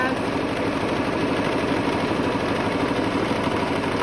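A sewing machine back tacks a straight stitch on a cloth menstrual pad, giving a continuous close motor hum and rapid needle chatter that stays even throughout.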